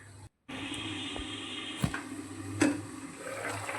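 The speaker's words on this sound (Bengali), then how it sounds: "এরপর এর মধ্যে দিয়ে দেবো গরম জলটা যাতে আলু আর ফুলকপিটা সিদ্ধ হয়" Hot water pours into a pan of potatoes and cauliflower cooking over high flame, a soft continuous watery rush after a brief gap, with a couple of faint clinks and no talk.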